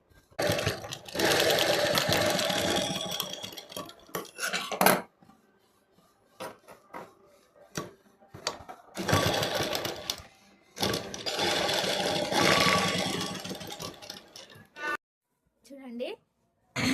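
An electric sewing machine stitches the embroidered work on a latest-model blouse in long steady runs, stopping between bursts, with someone speaking in the pauses.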